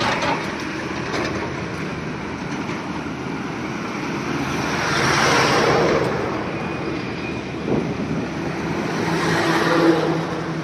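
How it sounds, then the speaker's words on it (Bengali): Traffic roars along a Delhi national highway in the morning, a continuous wash of passing vehicles that swells and fades as they go by, heard from the roadside with no talk. "হচ্ছে দিল্লি হাইওয়ে, ন্যাশনাল হাইওয়ে"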